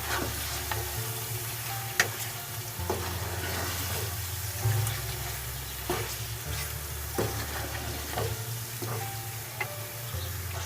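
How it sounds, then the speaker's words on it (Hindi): Chicken pieces with spices sizzle gently as they are sautéed over medium heat in a pan, a soft continuous frying hiss with intermittent scraping stirs and a low background hum. "मसाले डालने के बाद हम इसमें चिकन ऐड करेंगे। पाँच मिनट तक हम इसे भूनेंगे नॉर्मल आंच पे।"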